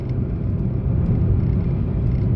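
A car drives along a road, a steady, close, low rumble and whir of engine and tyres holding at an even level without voices.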